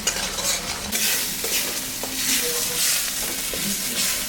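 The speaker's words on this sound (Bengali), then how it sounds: "এটা এখন একটু কষাতে হবে।" Spice masala with salt and turmeric sautéing for chicken lollipop, a steady close sizzle with frequent scraping stir strokes of a spoon against the pan, no voices.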